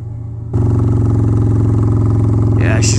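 A motorcycle engine holds a loud, steady high idle close by, starting abruptly after a short quiet moment and droning evenly, with a brief higher squeal near the end.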